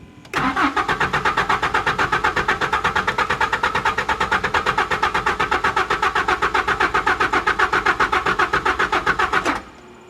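A Mazda B2600i pickup truck's engine cranks steadily and loudly for about nine seconds, a fast rhythmic starter churn, then cuts off without catching; no one speaks.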